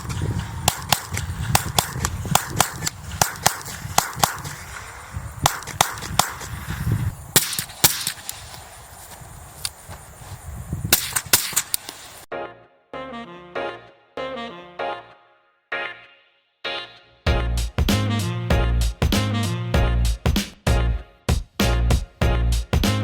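Suppressed gunshots from a silencer, a rapid string of sharp cracks and snaps that continue through the clip, some close and loud and others quieter, with no talking.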